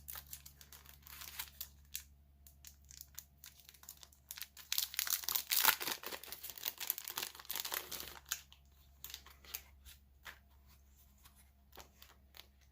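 Sheets of an Antique Bookstore paper pack with old book page prints crinkle and rustle while being flipped through, with soft shuffling throughout that builds to a busier patch of crisp crackling in the middle, close and fairly quiet.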